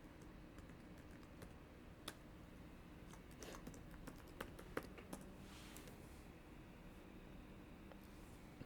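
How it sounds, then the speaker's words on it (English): Fingers type credentials on a computer keyboard, a quiet run of light, irregular key clicks with a few sharper taps, heard close over a soft background hiss. "go ahead and type in your credentials"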